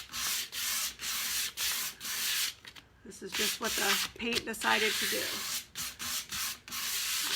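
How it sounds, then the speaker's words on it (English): Wood coated in milk paint being hand sanded smooth with 220-grit paper, close-up rhythmic scratchy rubbing strokes in steady bursts, with a voice briefly talking between strokes. "when I'm sanding it like this, it's taken up everything loose"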